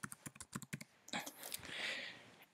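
Quick, clear keystrokes clatter on a computer keyboard as a website address is typed, followed by a brief rushing, rustling noise. The sound is close and quiet, with no speech.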